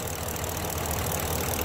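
A 355 hp General Motors engine converted to run on LPG propane idles steadily, a close, even mid-to-low mechanical drone with a faint knocking texture and no talk.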